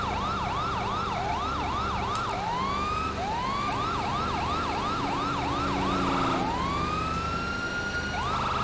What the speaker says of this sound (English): They usually do when there's a siren near them.